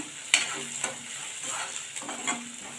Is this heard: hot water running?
no